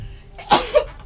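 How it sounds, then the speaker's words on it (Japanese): A single close, sharp sneeze bursts out over a faint background hum, followed a moment later by a smaller exhaled catch of breath. "あ、くしゃみ。"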